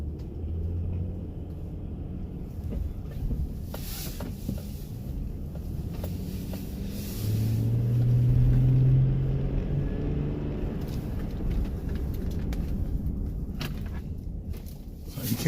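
A 2008 Honda Odyssey minivan on a test drive, heard from inside as a steady low road and engine rumble that swells for a few seconds midway, with faint knocks and a voice murmuring in the cabin.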